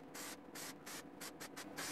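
Aerosol spray can sprayed in several short bursts of varying length, loud and close, hissing in quick succession with brief gaps, while glass for a fallen car door mirror is being refitted; no talking.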